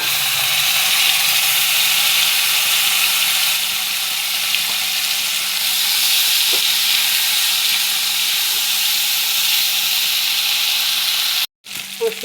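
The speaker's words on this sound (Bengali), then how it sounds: "মশলা ভাজা হয়ে গেছে" Ground spice paste with turmeric fries in a pan, giving a steady, loud sizzle that holds without a break until a brief cut near the end.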